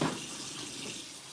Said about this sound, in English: I gotta run some water really quick